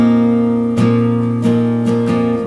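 A guitar chord is played with the index finger barring the last two strings, as in a song, strummed four times in an even rhythm with the strings ringing between strokes, close and clear.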